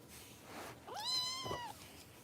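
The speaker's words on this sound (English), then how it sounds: "Meow again. I dare you." A foster kitten gives a single clear, drawn-out meow at close range in a quiet room, rising and then falling in pitch, with no talking over it.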